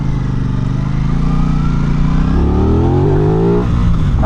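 A 2026 Aprilia RS660 600cc sport motorcycle accelerates hard, the engine revving loud and near with rising tones and quick-shifter upshifts.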